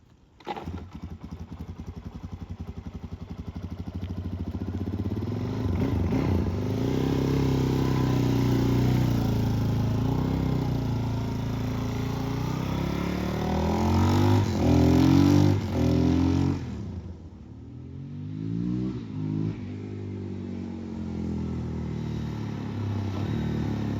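Suzuki motorcycle being ridden, its engine droning steadily and loud with rising and falling revs as it accelerates and shifts, plus wind rumble, then settling to a lower idle-like note near the end.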